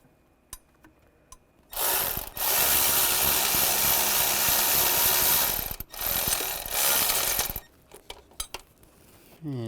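Thermostat housing bolts on a Buick Enclave driven in with a power tool, a loud sustained buzzing whir of several seconds broken by short pauses, followed by a few metallic clicks.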